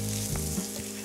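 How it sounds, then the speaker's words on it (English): Spinach sautéing in a pan, a brief close sizzle with low hum and a couple of soft stirring scrapes, no voices. "Saute it for a while. Then add spinach."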